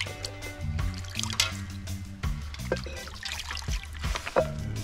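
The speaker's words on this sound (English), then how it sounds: "Drain off the water." Water trickles and drips off freshly washed fish draining in a kitchen, a soft, uneven dribble with small splashes close by and low background hum.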